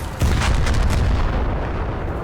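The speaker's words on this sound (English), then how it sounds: "Bomb explosions in War Thunder look amazing." A loud, deep bomb explosion in War Thunder booms and rumbles on, its low roar filling the clip with a heavy sustained blast that slowly fades.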